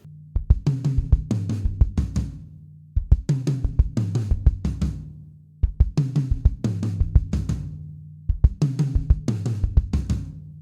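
A drum fill played at a brisk tempo, repeated four times, each burst of quick tom and snare hits ending in a cymbal crash, loud and close.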